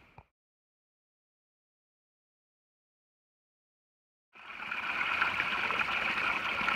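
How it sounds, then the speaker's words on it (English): Near silence breaks into the steady, close rush of a strong-flowing mountain stream, the water source for Peters Mountain Shelter on the Appalachian Trail, continuing loud and unbroken to the end. "This is the water source for Peters Mountain Shelter, and as you can see, it has a really good flow."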